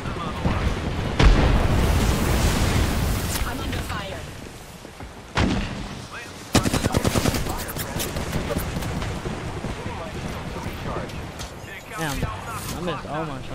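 Gunfire in the Apex Legends video game, loud bursts of rapid shots and booming blasts filling the mix over continuous game sound, with a sharp rattling volley midway.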